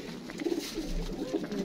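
Pigeons coo in a rooftop loft, a soft continuous throaty burbling close by with several birds overlapping and no voices.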